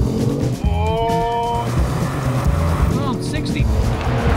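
A 2018 Kia Stinger GT with a twin-turbo V6 and all-wheel drive, driven on a race track, its engine roaring and shifting pitch up through gears, loud from inside the car with a voice over it.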